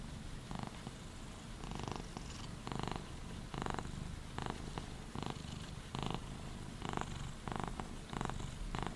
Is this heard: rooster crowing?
no